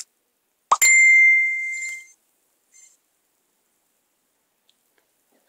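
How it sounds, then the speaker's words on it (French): A phone's Facebook notification chime plays once, a short bright tonal blip after a sharp click, ringing out briefly and then fading into silence. "vous avez sûrement reconnu le bruit Facebook"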